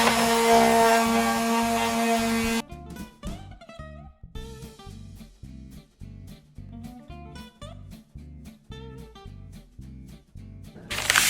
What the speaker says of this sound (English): I started by sanding all the raised paint.